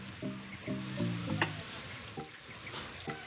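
Pork pieces drop into hot cooking oil and fry with a faint, steady sizzle. Soft tonal clinks and scrapes sound over it.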